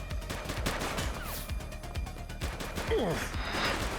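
Gunfire in The Precinct, a police video game set in the 1980s: a rapid volley of sharp shots packed close together, mixed with game effects and bursts of voices throughout.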